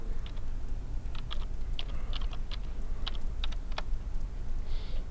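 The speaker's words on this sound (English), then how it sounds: "I'm going to open up web browser and type the IP address directly in the address bar." Keys clacking on a computer keyboard while an IP address is entered, a series of separate close taps in uneven bursts over a steady background hiss.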